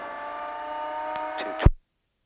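A Calidus autogyro engine holds a steady tone and then swells as power ramps up, ending abruptly. It is close and fairly loud, with no talk.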